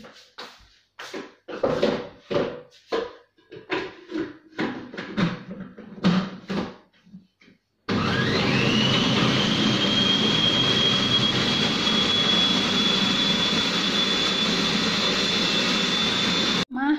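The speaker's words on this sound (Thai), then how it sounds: "ปั่นเสร็จแล้วปั่นเสร็จแล้ว" Blender whirring as it purees tomatoes for homemade tomato sauce, starting abruptly after a stretch of talk and running loud and continuous, with a steady high whine riding over the motor roar until it cuts off.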